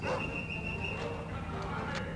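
A dog barks and yips in the video game Medal of Honor, with a steady electronic drone behind it and a voice speaking French over it.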